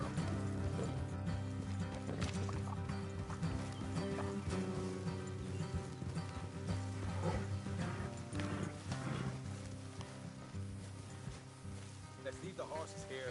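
Horses clip-clopping along in Red Dead Redemption 2, rhythmic hoofbeats under game music and someone speaking, with an occasional snort or whinny, moderately close but fairly soft overall.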